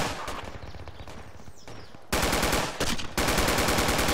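Rapid automatic gunfire crackles through a Project Reality firefight, starting as distant bursts and then turning into loud, dense sustained fire nearby with a brief break.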